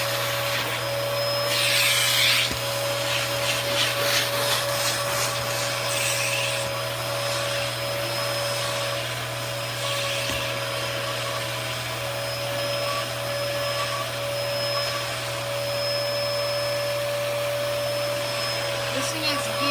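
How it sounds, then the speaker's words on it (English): A Dyson vacuum cleaner runs steadily with a loud, constant whirring drone and an underlying motor hum, with faint rubbing and scraping as it cleans up debris; no talking. "let's do this, because I do have some stuff I need to vacuum up"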